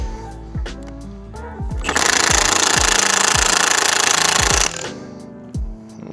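An impact wrench hammers loose the front strut nuts on a 2022–2026 Ford Maverick Hybrid, a loud close buzzing rattle of about two and a half seconds, set between short sharp clanks and tool handling.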